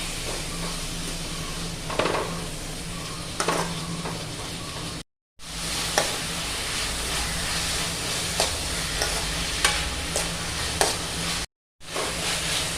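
Sliced onions sautéing with salt in a pan, a steady close sizzle with occasional stirring scrapes and clinks running throughout, no talking.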